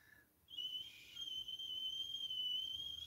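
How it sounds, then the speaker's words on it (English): A single high, thin whistle held steadily for a few seconds after a brief pause, soft and close against quiet background hiss. "Whistling to the cat."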